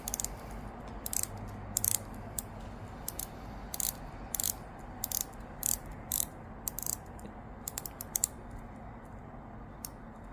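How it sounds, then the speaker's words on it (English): A rapid series of crisp, light ratcheting clicks in uneven bursts as the 60-click rotating bezel of a 1991 Tag Heuer 929.113G Night Diver watch is turned notch by notch, close up with a soft background hiss. "it has a 60 click rotational bezel"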